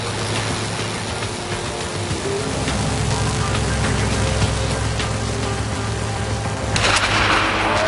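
Loud, continuous crackling and sizzling like frying, from roughly 200,000-volt electrical arcing, dense and unbroken, with a sharper burst of hissing near the end.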